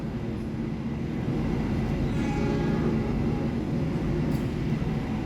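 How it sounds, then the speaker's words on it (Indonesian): Argo Wilis passenger train travelling toward Surabaya Gubeng, a steady low rumble and rolling clatter heard from inside the carriage, continuous and moderately loud throughout. "kereta api Argo Wilis yang gua naik ini melanjutkan menuju ke Surabaya Gubeng"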